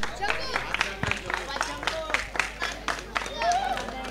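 A crowd at the medal ceremony of an under-14 cricket league final claps for the man of the match, a loose run of scattered handclaps mixed with chatter and talking nearby.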